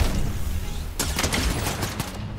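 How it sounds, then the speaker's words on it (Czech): Shotgun fire in Fortnite rattles off in a quick burst of sharp shots after a second of muffled game ambience, several reports landing in fast succession. "Ona rychle střílí, ale to je něco mezi pumpou a taktikálkou."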